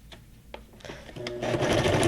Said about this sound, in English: Release. And sew.